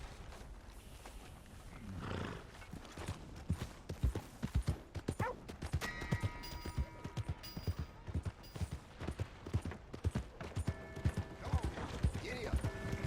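A horse's hooves clip-clopping at a steady trot through a Red Dead Redemption 2 game scene, rhythmic and fairly close, mixed with game ambience and a brief snort or grunt.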